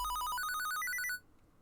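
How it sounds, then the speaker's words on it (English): A phone rings with a rapid electronic trill in repeating bursts, close and clear, rising in pitch partway before cutting off abruptly into near silence. "All of a sudden, his phone rings."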